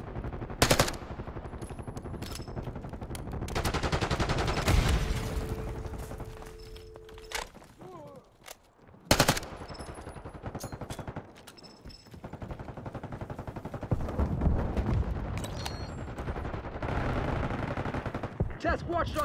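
Gunfire in Call of Duty Black Ops 6, automatic bursts and single shots rattling in several loud clusters with pauses between, mixed with game effects and occasional radio-style voices.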